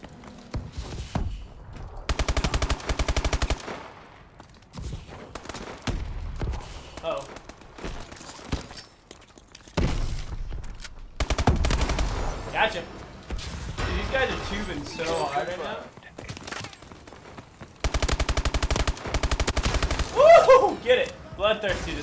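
MP11 submachine gun fire in Call of Duty comes in repeated rapid bursts, loud and close, between quieter stretches of game sounds and footsteps, while a player talks throughout.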